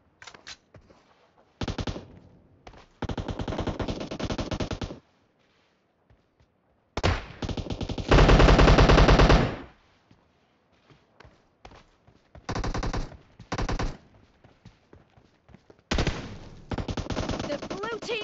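Bursts of machine gun fire in a shooter video game, several sustained rapid volleys separated by short pauses, loud and close, with one especially heavy burst midway.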